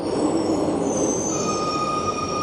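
Brand-new subway train arriving at a cold station, its wheels giving a loud, sustained high-pitched squeal over a rumbling roar, close by and with no talking.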